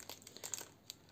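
Baking paper crinkles in a quick series of soft, close rustles and crackles, faint and handled briefly with no talk.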